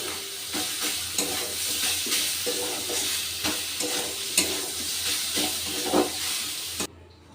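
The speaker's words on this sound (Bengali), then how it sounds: "এই দেখুন চিকেনটাকে খুব ভালো করে আমি ভেজে নিয়েছি।" Chicken frying in a pan for chicken vegetable chops, a steady close sizzle and hiss with repeated stirring scrapes and taps, ending abruptly with no voices.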